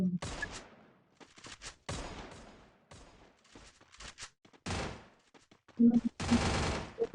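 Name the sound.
gunfire in a video game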